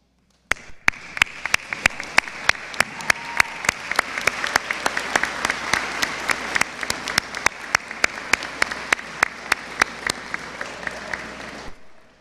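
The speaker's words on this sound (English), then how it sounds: "I would like to ask the class of 2023 to stand and applaud those who encircled you with support, love, and encouragement" A graduating class at the Bethany College 2023 commencement ceremony applauding their families: sustained, dense clapping from a large crowd for about eleven seconds with sharp individual claps standing out, then stopping abruptly.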